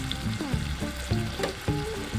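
Marinated bone-in chicken, Kagawa-style honetsuki-dori, sizzles skin side up in hot olive oil in a frying pan, with a steady crackling fry and a few louder pops or stirs. It is close and alone, with no talking.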